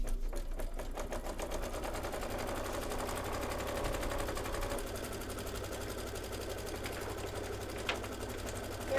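A Kimberbell embroidery sewing machine stitches out a brown thread design in a rapid, steady mechanical rattle that continues for several seconds, up close and with no voices.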